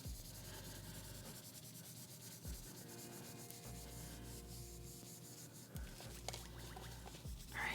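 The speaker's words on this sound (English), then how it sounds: "All right, this is polishing up really nicely." A vintage Polly Pocket plastic toy is polished by hand, giving a steady, close rubbing and scrubbing sound that continues without pause through the whole clip, with no talking.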